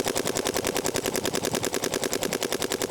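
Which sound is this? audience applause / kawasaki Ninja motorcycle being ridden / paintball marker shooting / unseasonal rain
paintball marker shooting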